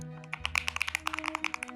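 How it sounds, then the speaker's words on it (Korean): A Venom 60HE keyboard is typed on in quick, steady bursts of crisp, close clacking keystrokes, with no talking. "타건음이 좋다 보니까 계속 쳐보고 싶은 느낌이 듭니다"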